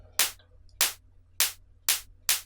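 Five evenly spaced synthesized claps designed in Serum with a high-pass filter applied, each a crisp bright burst with the low end thinned out, repeating at a steady rhythm with a faint static hum beneath.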